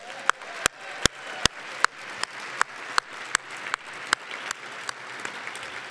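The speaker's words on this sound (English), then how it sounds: "I ask for one more round of applause." Applause closes a hall of fame induction ceremony, sharp individual claps ringing out in a steady, loose rhythm from a modest audience in a hall, fairly close and without talk.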